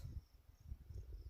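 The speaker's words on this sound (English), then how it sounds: "I hear the crickets chirping, so I know there's bugs" Crickets at a deserted Wind River campground in Wyoming chirp faintly and continuously in the distance, with no voices present.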